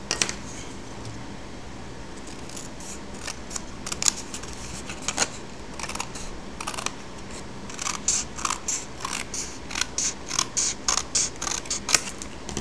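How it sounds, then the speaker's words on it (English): Crisp snipping of scissors through paper, a series of sharp cuts, irregular at first and then a steady run of quick snips, close and alone. "you can just use scissors"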